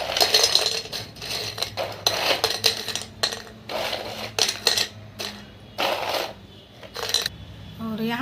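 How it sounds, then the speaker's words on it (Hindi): Biscuits dropped one at a time into a metal kadhai, making a run of sharp, close clinks and rattles at an irregular rhythm, loud and without speech. "इसी में हम सारे बिस्कुट को जो है डाल देंगे एक एक करके"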